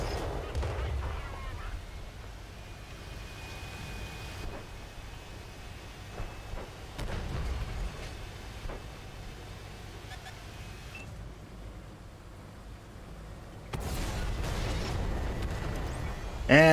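Artillery shells strike and explode around a T34 tank in World of Tanks on console, with several booming impacts and crashes spread across the stretch amid rumbling engine noise.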